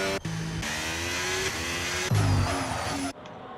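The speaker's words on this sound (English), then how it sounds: "The engines were too loud in my ear." Race car engines in the F1 25 video game at Britain scream at high revs, with gear shifts and a sudden louder surge, then cut out abruptly. There is no talk.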